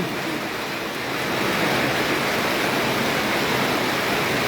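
Heavy rain in Comilla, Bangladesh makes a loud, dense rushing hiss that swells slightly after the first second, then holds steady and close with no talking.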